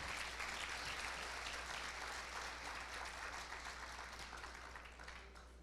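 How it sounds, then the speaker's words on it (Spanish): A church congregation claps together in a sustained, dense round of applause, steady and enveloping, slowly fading toward the end. "Dele palmas al Señor en esta noche"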